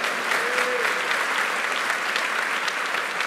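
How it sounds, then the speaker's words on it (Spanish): A church congregation applauds in a dense, steady roar of many clapping hands throughout, moderately loud and without a break. "Dese un aplauso porque está recibiendo la palabra."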